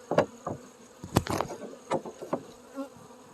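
Honey bees buzz around a porch hive as frames are worked, passing close in short loud bursts against a faint constant hum.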